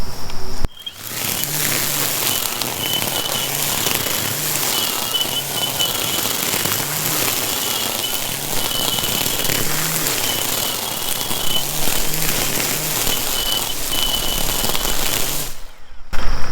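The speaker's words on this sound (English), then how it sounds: "Running a long line, let's see how well it does in this tall grass." An Echo eForce DPAS-2600 56V battery string trimmer with a long line runs on its lowest setting through tall grass, giving a loud, continuous whirring roar with a thin high whine and choppy bursts, cutting off near the end.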